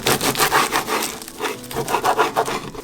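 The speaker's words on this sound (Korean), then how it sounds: "잘라서 속을 보여드려 볼게요." A knife saws through a crunchy seaweed-wrapped puffed rice bar bound with rice syrup, a Korean gim gangjeong. It gives close, loud, rhythmic crunching and rasping strokes in quick succession, with no talk.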